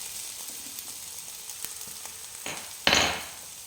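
Masala sautéing in a pan for Karimeen Pollichathu, a soft steady sizzle that swells into a louder burst of frying near the end, close by with no talk.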